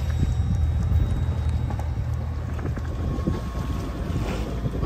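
A sailboat's motor runs steadily at sea off the Turkish coast, a constant low drone with wind buffeting the microphone and water noise, no voices.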